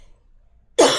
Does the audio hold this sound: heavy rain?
no